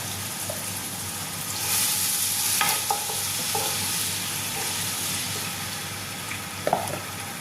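Ground onion fries in hot oil and is stirred, producing a steady close sizzle with scraping spoon strokes and a few small clinks rising above it.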